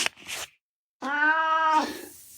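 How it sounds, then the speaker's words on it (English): A single drawn-out cat meow, clear and close, preceded by a couple of short, faint rustling sounds. "It's Bernie the cat."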